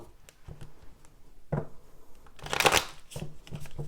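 Tarot cards being shuffled in several quick riffling bursts, with a louder flurry in the middle and soft handling noises between.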